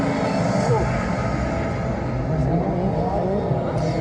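Racing motorcycle carrying about 200 kg of machine and rider on a track at Niort, its engine droning steadily with rising whines under loud crowd and announcer noise throughout.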